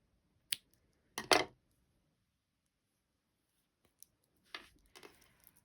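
Scissors snip crochet yarn on a Barbie dress, with a single quick snip followed by a louder double cut, then softer handling noises of yarn and fabric after a quiet pause, close up with no talking.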